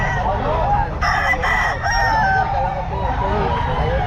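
Rooster crowing at a busy pet market in Bocaue, its calls rising over steady crowd chatter and background voices, fairly near and clear.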